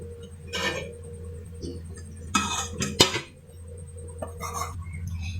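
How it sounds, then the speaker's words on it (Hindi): Chana pulao being served out of a pot, with a few short clinks and scrapes of a metal spoon against the pot and dishes, close by with quiet gaps between them. "अब हम इसे डिश आउट करते हैं।"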